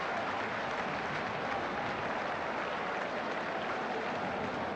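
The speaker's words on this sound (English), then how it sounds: "generous applause here from the Portman Road crowd" Football crowd at Portman Road applauding a terrific goal by Notts County against Ipswich in 1981, a broad sustained wash of applause from the stands, steady and distant with no pauses.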